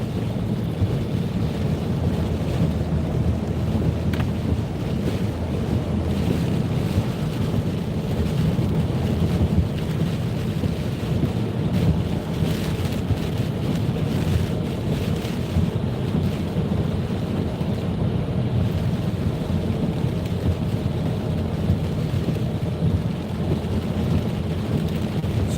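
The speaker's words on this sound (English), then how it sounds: "the noise from the rain is phenomenal" Heavy rain and strong wind batter a car driving at night on UK roads between Stalybridge and Wigan, a dense, steady roar of downpour and buffeting air that stays constant and loud throughout, with no talking.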